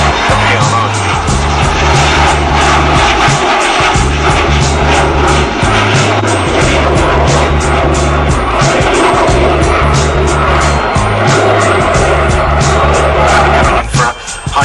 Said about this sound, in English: For a high-speed fly pass